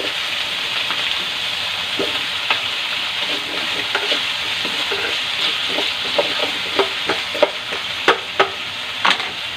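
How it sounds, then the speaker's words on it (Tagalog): Potatoes and carrots go into a sizzling kaldereta pan, giving a loud, steady frying hiss. Stirring knocks and scrapes grow more frequent and rhythmic toward the end, close up. "pwede na natin ilagay yung ating patatas at carrots"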